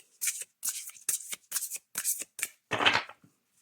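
Oracle cards shuffled close up in about seven quick, separate bursts of papery slapping and riffling, each a short, crisp rustle with brief pauses between, ending in a longer, fuller shuffle.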